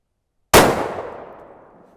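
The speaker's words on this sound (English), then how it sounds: "Okay, I'm going to move the magneto speed over to the 22-250 and we'll shoot a couple of those." A single sharp, loud rifle shot from a .22-250 fired at high velocity into ballistic gel blocks cracks out after brief silence, then decays over about a second and a half.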